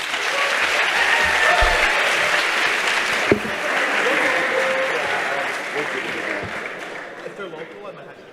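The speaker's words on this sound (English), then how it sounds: "I just want to give a massive, massive round of applause to all of the volunteers and organizers from this weekend" A large hackathon audience at a closing ceremony claps in sustained, loud applause for the volunteers and organizers. The clapping is dense and even throughout, then gradually thins out toward the end.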